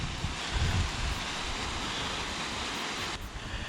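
Small waterfall on the Battle Creek Trail, a steady close rush of falling water that fills the short stretch, with a brief louder gush early on and no voices.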